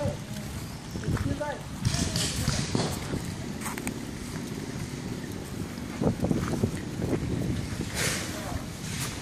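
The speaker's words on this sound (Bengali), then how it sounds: "প্রচন্ড বাতাস, ঠান্ডা" Strong, cold wind blowing through a misty, cloud-covered hillside trail near a waterfall, roaring and buffeting the microphone in gusts, with footsteps and people talking in the background.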